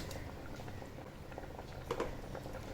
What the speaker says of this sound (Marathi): आता उकळी आलेली आहे छानपैकी, पाहू शकता तुम्ही.